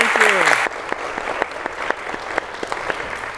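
Audience applause for a music performance at a workshop session, steady and fairly dense at first, with a voice speaking over its opening, then thinning into scattered individual claps.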